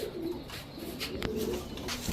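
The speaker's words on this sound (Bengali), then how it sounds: "পুরা লাট্টু মাথার কবুতর, বড় মাথার কবুতর প্রতিটা" Pigeons of fancy breeds, including big-headed birds, coo softly at a loft, giving a low, murmuring burble with a couple of faint wing or perch sounds at moderate distance.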